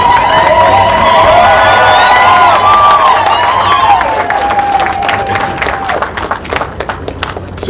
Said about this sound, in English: stand up and give him a round of applause